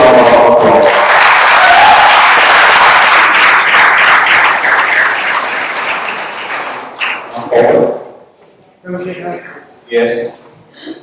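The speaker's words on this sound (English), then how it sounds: "Please give both the team a big round of applause." An audience at a school debate semi-final gives a big round of applause, loud and dense clapping that swells, then fades over several seconds into scattered claps, followed by brief talking voices.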